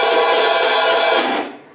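A bright, sizzling cymbal wash sustains for over a second, then fades quickly as it is choked off. No voices.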